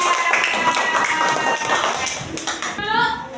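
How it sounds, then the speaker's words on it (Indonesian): A class of schoolchildren claps for a student group in a classroom, a dense steady patter of hands close by with children's voices mixed in, easing off near the end. "Tepuk tangan untuk kelompok 3"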